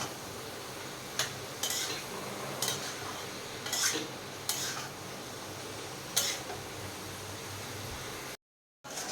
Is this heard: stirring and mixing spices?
yes